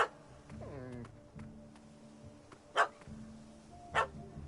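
A dog barks and yips in The Witcher 3 video game, a few short separate barks over a low ambient game soundscape, fairly faint and at mid distance.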